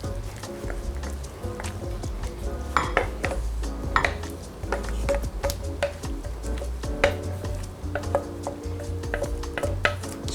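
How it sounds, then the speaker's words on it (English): Turkey pot pie filling goes from a pot into a pie pan, with metal utensils clinking and scraping against cookware in irregular knocks and taps over a low background hum. "I'm gonna dump my turkey pot pie into my pie pan"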